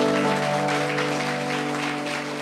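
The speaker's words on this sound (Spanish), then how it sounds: "Un aplauso al Señor." A crowd claps in steady, sustained applause at a church service while a low organ-like chord hums underneath.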